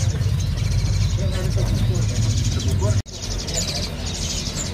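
Caged birds chirp and tweet in scattered bursts at a busy bird shop, with a steady low crowd and traffic murmur underneath and a brief dip near the end.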